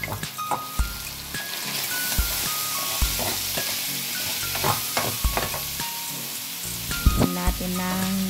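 Ginger, garlic and onion sautéing in a pan for pinakbet, with a steady close sizzle broken by repeated scraping and clinking of a utensil stirring against the pan.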